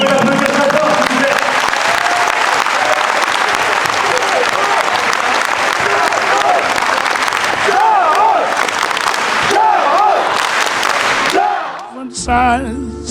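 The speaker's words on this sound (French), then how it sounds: "On peut l'applaudir très fort, s'il vous plaît." A handball club crowd gives a long, dense round of hearty applause. It holds steady for about eleven seconds before breaking off abruptly.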